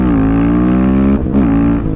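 A customized motorcycle exhaust roars steadily while riding, a loud sustained engine drone that dips briefly partway through before picking back up, with no talk over it.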